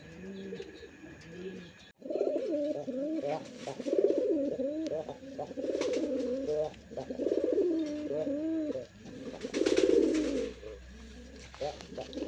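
A bright red local Bangladeshi pigeon for sale at a market coos repeatedly in rolling, throaty phrases, close and clear, with brief pauses between bouts and faint background noise.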